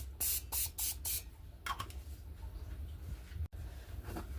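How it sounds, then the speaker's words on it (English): Several short bursts of aerosol cooking spray hiss in quick succession onto a waffle maker, followed by a quieter pause and then a few fainter hisses. "a little bit of cooking spray in."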